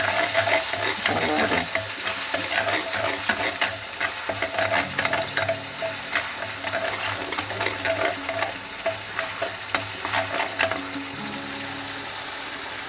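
Garlic-ginger paste sizzles in hot mustard oil over a low flame while an Assamese dried-fish curry cooks, a steady close frying hiss with scraping stirs throughout and no talking.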